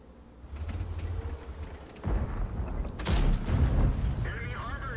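Tank cannon fire in the World of Tanks video game: heavy booming shots arrive in quick succession over a rumbling game soundscape, loud and close.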